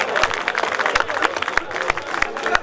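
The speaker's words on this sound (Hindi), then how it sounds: "जोरदार तालियां बजा के इस्तकबाल कर दीजिए हामिद भुसावली का" Audience at an all-India mushaira in Degloor applauding poet Hamid Bhusawali, rapid scattered clapping from a crowd mixed with loud overlapping voices, close and busy throughout.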